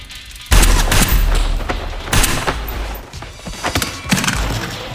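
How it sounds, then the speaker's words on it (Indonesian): Gunfire in an action film: bursts of heavy shots and loud booming volleys come in several waves, close and dominant, with no talk over them. "Chisato mencoba untuk menembak Fuyumura yang tengah bertarung dengan Mahiro."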